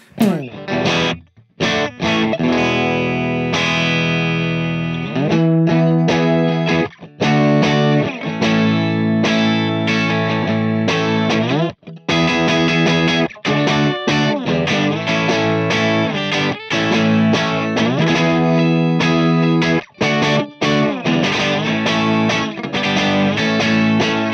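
Distorted, crunchy electric guitar through a boosted vintage Pro Reverb amp tone plays loud chords and riffs with brief pauses, driven throughout.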